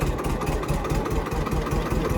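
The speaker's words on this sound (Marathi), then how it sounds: "idle R P M" Steady low idle of a tractor engine, an even rumbling drone with faint rhythmic pulsing, heard up close and uninterrupted for a couple of seconds.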